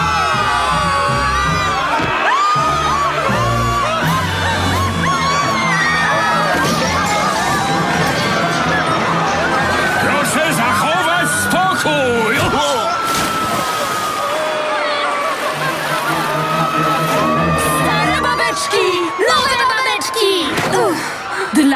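Cartoon characters scream and shout all at once in an animated show, a loud, dense, continuous wall of voices with overlapping shrieks and whoops that runs without a break.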